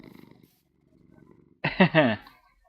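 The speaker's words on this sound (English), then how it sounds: "Yeah, you keep purring" Soft rhythmic purring of a tabby cat in the video game Minecraft, Feed The Beast modpack, pulses quietly at first, followed by a short burst of a person speaking.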